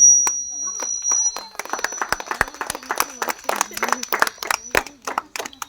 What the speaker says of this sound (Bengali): হাততালি মারো।